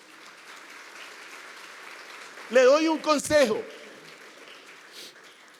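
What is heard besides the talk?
congregation applause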